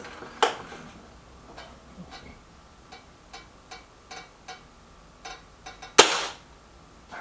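A Kral Nish air rifle fires at a target: two sharp, loud cracks about five seconds apart, with a series of faint ticks and clicks between them in a quiet outdoor setting.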